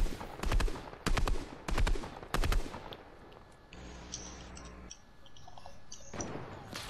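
Fortnite gunfire: four loud, close bursts of rapid shots at a steady spacing, then quieter game sounds and a final short volley.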